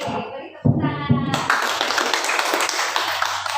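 A school discussion audience breaks into clapping, starting with a few scattered claps and quickly swelling into dense, steady applause that fills the room.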